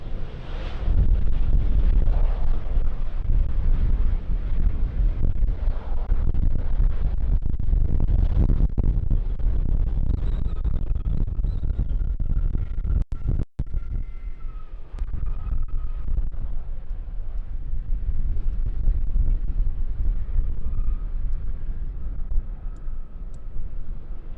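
Airliner landing in a storm crosswind at Schiphol runway 18R, a continuous loud roar of engine and gusting wind buffeting the microphone throughout, with a brief sharp dropout midway.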